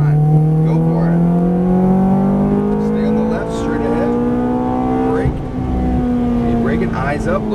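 Ferrari F430 F1 accelerating out of a corner on a race track, engine note climbing steadily in pitch, loud and close from the cabin, with an instructor's voice talking over it throughout.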